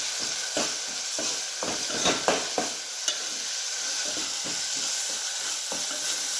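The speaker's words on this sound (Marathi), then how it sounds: "आता याच्यात मसाला टाका. मसाला चांगला फिरवायचा." Masala frying in oil with tomatoes and onions as it is stirred in a pan, a steady sizzle broken by a regular series of scraping stir strokes, close and without talk.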